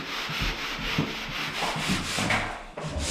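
Sandpaper rubs back and forth over wood on a small kitchen closet cabinet, a steady near scratching with rhythmic strokes and no talk.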